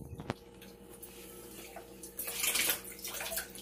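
Tap water runs steadily into a sink while hog maws are rinsed before cleaning, the flow swelling louder near the end with occasional handling clatter.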